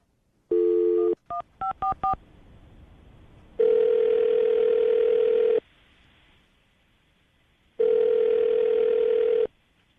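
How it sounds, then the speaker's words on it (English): A burst of keypad dialing beeps, followed by two long ringing tones on the line with quiet gaps between. "I'm gonna dial the phone number right now"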